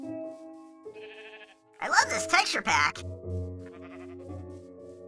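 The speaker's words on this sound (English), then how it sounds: "So many sheep." Sheep bleat in Minecraft, a couple of short nasal bleats rising over the game's background music, with a voice talking over them.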